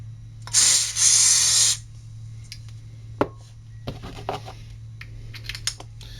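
A close hiss of lubricant sprayed from a can onto the crusty, seized parts of a Ryobi RID1801 impact driver, in two bursts over about a second, followed by scattered clicks and rattles of metal parts being handled.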